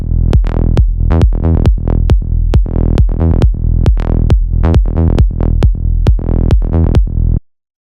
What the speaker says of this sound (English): it's a progressive psytrance bassline.